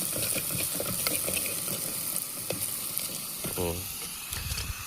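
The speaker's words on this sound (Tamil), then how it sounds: "வெங்காயம் வதக்கிறோம் நல்லா." Onions sauté in a clay pot for fish curry over a small gas cylinder stove, a dense close frying hiss with irregular crackles and scrapes of stirring.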